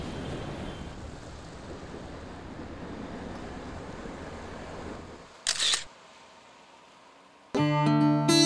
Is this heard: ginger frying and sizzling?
no